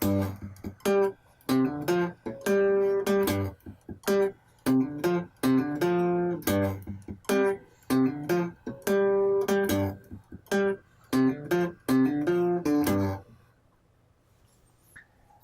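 A slow, clean guitar riff of plucked notes and short chord stabs with brief gaps between phrases, played alone and ringing out at the end.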